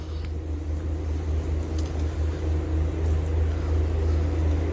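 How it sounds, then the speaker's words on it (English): A truck rumbles past on a rural road near a Pennsylvania state park, with a steady low engine drone holding for several seconds, moderately close, with no voices. "We let the truck here get past."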